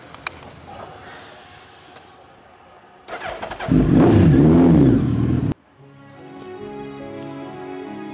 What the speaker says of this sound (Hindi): सूरज तू बाइक घुमा ले।